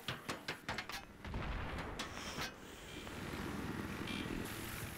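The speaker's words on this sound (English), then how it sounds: "Oh, the gunship is shooting." A gunship firing during a 32 vs 32 Armored Shield match in the shooter Battlefield 3, a quick series of muffled heavy shots followed by a rumbling wash of explosions and engine noise, fairly faint.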